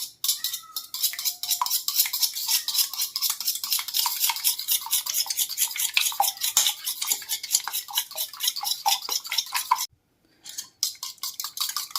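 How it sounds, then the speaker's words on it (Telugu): Three eggs with salt are beaten briskly in a bowl, a fast, rhythmic clatter of a utensil against the sides that runs steadily for about ten seconds, breaks off briefly, then resumes, close and loud. "సో ఇప్పుడు వీటిని బాగా బీట్ చేసుకోవాలి."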